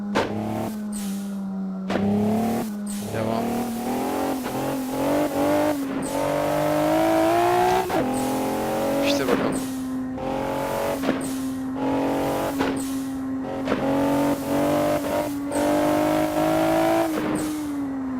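A modified front-drive turbo Renault Clio in the racing game Assetto Corsa revs hard through repeated upshifts, each gear climbing then dropping with sharp shift breaks and a brief tire squeal, steady and close with no talking.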